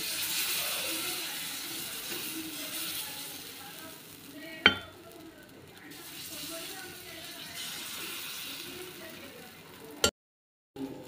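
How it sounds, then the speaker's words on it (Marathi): Rava-rice vegetable uttapam batter sizzling in a hot pan, a soft, continuous hiss with a couple of sharp clacks from utensils, ending in a sudden cut to silence. "इकडे आता मस्त उत्तप्पाचं मिश्रण आपण पॅनमध्ये टाकूयात"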